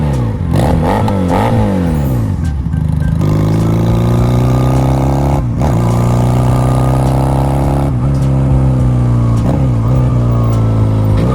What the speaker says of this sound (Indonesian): walaupun mesinnya 2 silinder, suara yang dihasilkan cukup ngebas